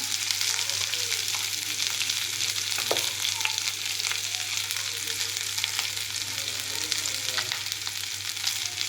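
Potatoes frying in hot oil give a loud, continuous close-up sizzle with scattered crackles and occasional stirring sounds, and no talking.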